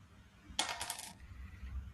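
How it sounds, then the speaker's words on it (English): Dice being rolled for a game, one short, crisp rattle lasting about half a second, close by in a quiet room. "Let's roll the dice."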